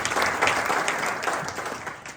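A congregation at a Sunday worship service in Cipanas claps for God, a short burst of crowd applause that swells early and then gradually thins out.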